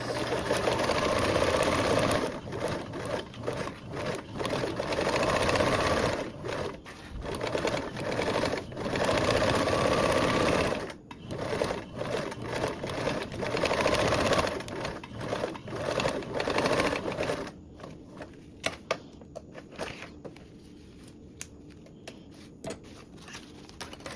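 Sewing machine basting around two fabric panels for a toiletry bag with a 1/8 inch seam allowance, running in steady loud bursts with brief pauses, then slowing to scattered stitches near the end.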